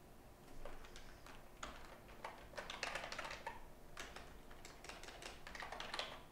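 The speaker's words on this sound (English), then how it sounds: "Typing Python in my JavaScript." Computer keyboard typing during programming work, a steady run of light, quick clicks in irregular bursts, close and fairly quiet, with no talking.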